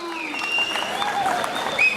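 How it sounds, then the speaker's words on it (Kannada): A crowd claps together in steady applause at the opening of a stage event, with a few faint voices and whistles mixed in. "ಚಪ್ಪಾಳೆ ಕೊಡಿ ಕಾರ್ಯಕ್ರಮವನ್ನ ಶುರು ಮಾಡೋಣ"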